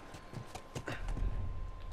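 Horse hooves clip-clopping in The Last of Us, a run of quick, evenly spaced hoof strikes, close but fairly soft, alone without talk.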